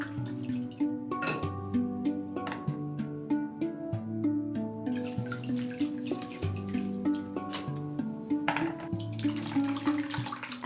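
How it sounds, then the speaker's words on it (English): Sherbet juice strained into a large, deep bowl trickles and drips steadily, with liquid splashes close by over a continuous tonal background. "Strain the juice into a large deep bowl."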